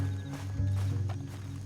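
Rhythmic clip-clop of horse hooves in the video game Red Dead Redemption II over a steady low rumble, moderately loud and continuous throughout.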